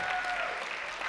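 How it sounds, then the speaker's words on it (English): Brief burst of audience applause at a library service leadership award presentation, about a second of steady clapping from a moderate-sized crowd. "Can you give her a round of applause for a moment?"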